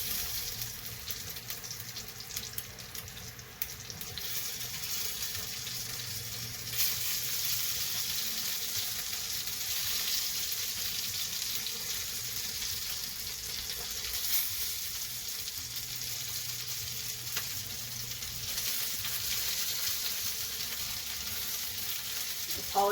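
Grease sizzles steadily as noodles fry for German sour cream noodles, a loud continuous hiss with crackling and spatter throughout, no talking.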